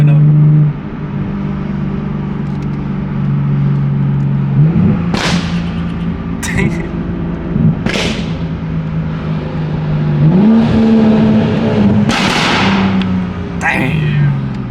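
A 500-plus horsepower Toyota Supra engine in sport mode drones steadily from inside the cabin, with several sharp rev bursts and shifts rising over the constant road rumble; people talk loosely over it.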